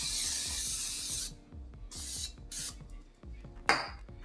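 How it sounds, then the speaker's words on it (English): Non-stick cooking spray hissing onto a baking dish for southern baked mac and cheese, a long steady spray burst followed by several shorter squirts and a faint clink of the pan, close by with no talking. "We're gonna use non-stick spray for this,"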